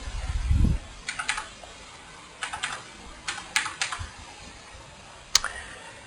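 Someone types a licence number on a computer keyboard, a few sparse clusters of crisp, close key clicks separated by quiet pauses, with one louder tap near the end.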